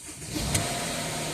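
A 2013 Mercedes ML engine cranking briefly and catching, a short, close rumble that settles into a steady idle.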